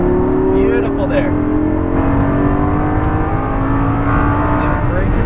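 Exotic sports car driven at full power on a race track, the engine roaring loud and steady from inside the cabin as the revs climb, while a voice speaks over it.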